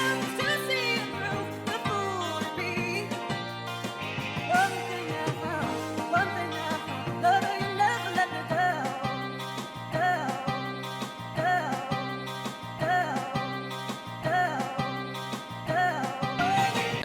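A sampled song plays as dense layered music with steady rhythmic hits and melodic tones throughout, moderately loud with no talking.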